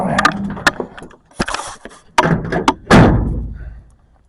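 A pickup truck tailgate with a simple latch fix is worked open and shut, giving a run of loud hard thunks, rattles and metallic clunks with short pauses between, close by and without speech.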